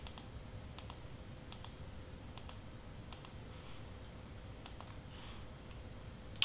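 Sparse, crisp single clicks from a computer mouse in a quiet room, spaced irregularly in small groups over a low steady hum.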